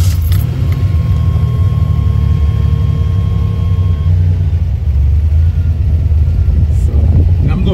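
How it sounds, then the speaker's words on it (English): Buick Grand National engine fires up and settles into a steady, loud low rumble at idle, close by, with a faint whine early on and a slight rise near the end. "Now let me start this car and see where the fuel pressure is at right now."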